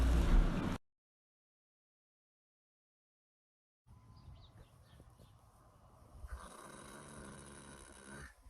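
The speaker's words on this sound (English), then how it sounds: "Why are you snoring so loud?" An animal snoring during a nap, a loud burst at the start, then a silent gap followed by quieter breathing and rustling up close.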